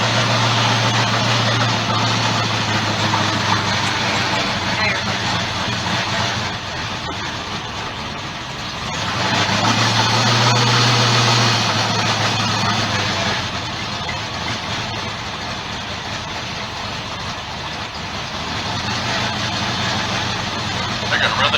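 Low, rumbling car engine idle through a Flowmaster exhaust, with a deep throaty note, steady and loud, with some background noise throughout.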